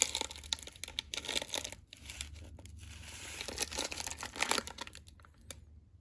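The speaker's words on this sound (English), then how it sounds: "Plastic chrome lining paper." Crinkly plastic chrome lining paper rustles and crackles up close in irregular bursts, quiet, with scattered crisp crumpling sounds and short pauses.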